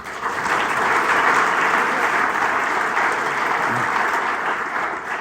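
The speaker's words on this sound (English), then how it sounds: "So let's give her a round of applause." A loud, sustained round of applause from an audience at a parks chamber of commerce annual meeting, thick continuous clapping that swells early and holds steady before easing slightly.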